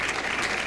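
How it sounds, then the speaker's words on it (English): Audience applause for the band at a 2016 holiday stage show, dense continuous clapping from a crowd, even and fairly loud throughout. "So a little applause for our musicians."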